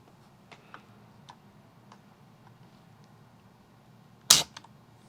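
A Crosman 362 air rifle trigger is pulled against a trigger gauge, giving soft ticks and light clicks before one sharp, loud snap near the end.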